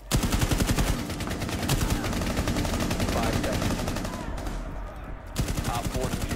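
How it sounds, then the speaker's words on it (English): Rapid bursts of automatic gunfire in Rainbow Six Siege, a dense run of close, loud shots that pauses briefly near the end and then resumes, with faint talk mixed in. "But we were all shooting him."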